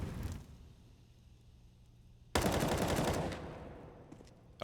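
Automatic gunfire from a Counter-Strike match on Mirage, a loud sustained burst of rapid shots cutting in suddenly after a quieter stretch, then fading away.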